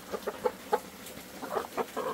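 Backyard coop chickens fed pumpkin, zucchini, pork trotters and melon cluck in short, irregular bursts, close by and without talk.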